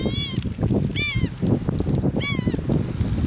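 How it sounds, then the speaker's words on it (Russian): Seagulls squawk loudly and close at a Florida beach, Indian Rocks Beach, with several sharp repeated calls over a murmur of crowd and surf. "Чайки вы американские."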